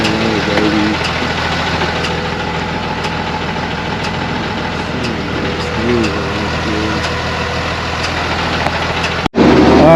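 A Ford Mustang GT 5.0 convertible idles steadily with a deep, even engine rumble held close throughout, ending with a brief cutoff near the end and a short clatter.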